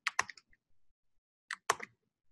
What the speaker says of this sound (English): Let me just type it right now.